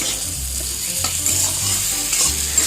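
Homestyle fish curry ingredients, mixed with vegetables and cooked with little or no oil, are stirred and turned in a pan. The scraping and mixing is steady and close, with a soft sizzle underneath and no voices.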